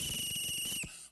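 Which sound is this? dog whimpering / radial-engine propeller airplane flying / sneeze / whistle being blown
whistle being blown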